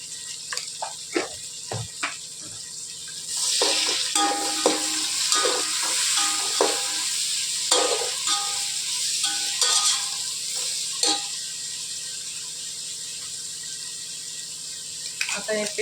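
Tomatoes frying with salt in a pan for mutton dum biryani, with a steady close sizzle and repeated scrapes of stirring under a woman's speech.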